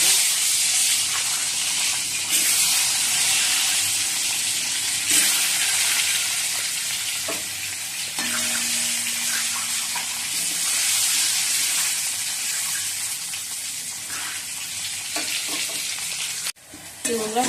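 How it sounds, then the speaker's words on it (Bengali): An egg fries in a pan with a continuous, fairly loud sizzle and hiss, a few scraping stirs and clinks breaking through, and a brief clatter near the end. "ভেজে নিই ডিমটা।"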